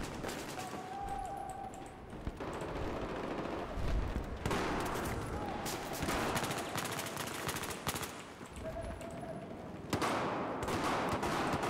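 Dense, continuous automatic gunfire and explosive bursts in a Battlefield 1 battle, with rapid repeated shots throughout, loud and close, overlapping distant fusillades and occasional whining tones.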